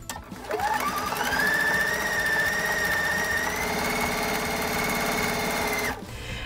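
A sewing machine stitches a pinwheel quilt block, its motor whining up to a steady rapid run for several seconds before cutting off abruptly near the end.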